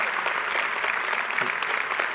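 A church congregation applauds steadily and fairly loudly, a dense, even wash of clapping that holds for the full two seconds with no voices over it.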